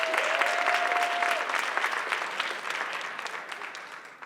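Sustained applause from a conference audience for the contestants at a neuroscience event, full and steady at first and gradually thinning toward the end.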